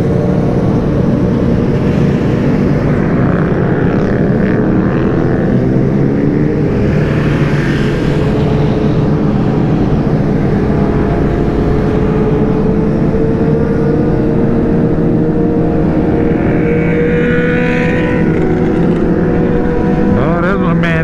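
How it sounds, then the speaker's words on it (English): A group of motorcycles, including Can-Am Spyders and sport bikes, rides by on a road in a steady, loud engine drone with swelling revs, with a voice talking over it. "Nothing more beautiful than a bunch of bikes."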